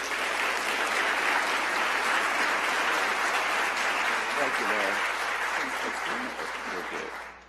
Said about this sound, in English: let's give a big round of applause to Dr. Martin Davison.